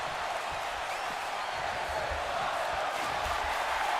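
A wrestling crowd roars and chants at a digital wrestling promotion event, a dense, steady wash of many voices filling the space without letup.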